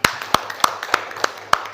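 Students in a classroom clap in a slow, evenly spaced rhythm, about six sharp claps under a faint room background with no other sound.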